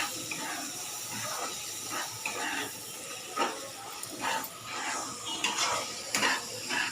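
Masala, garam masala, salt and peas for Kolhapuri mutter pulav are stirred together in a pot, with repeated scraping strokes of a spoon against metal and a faint hiss underneath, close and without talk.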